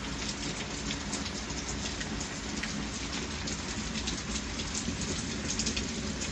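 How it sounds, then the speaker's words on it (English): Heavy rain pours steadily during a thunderstorm, a dense, even hiss of drops hitting surfaces that holds constant and fairly loud throughout with no voices. "Well, we finally got that rain come in."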